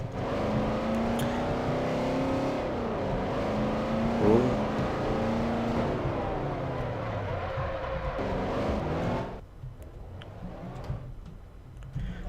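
A Ranger car from the TDM cars mod drives in Garry's Mod, its engine humming and revving with rising and falling pitch for several seconds before easing off to a quieter idle.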